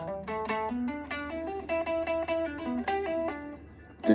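A six-string guitar plays a short melodic part, clean plucked notes in a quick walking line, close and clear with no voices.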